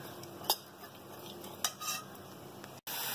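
Spoon stirring rajma, Punjabi-style kidney bean curry, in a pot after salt is added, soft scraping and a few light clinks against the pan over a faint steady background, close and quiet.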